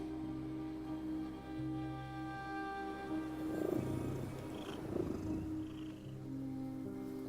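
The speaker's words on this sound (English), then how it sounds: "I heard a kitty purr." A soft, steady cat purr rumbles beneath quiet, sustained game music in the video game The Midnight Walk, with a few faint chimes drifting in.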